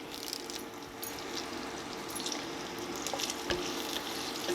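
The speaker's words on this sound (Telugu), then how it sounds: "దీంట్లోనే కరేపాకు కూడా వేసి వేయించుకోవాలి" Onions and curry leaves sizzling steadily in hot oil in a pan while cooking a mutton curry, a continuous close frying hiss with occasional pops and a light scrape of stirring.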